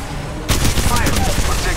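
Sudden loud rattle of rapid gunfire in the battle royale Apex Legends Mobile, a close, sustained volley of shots cutting in after a brief quieter moment.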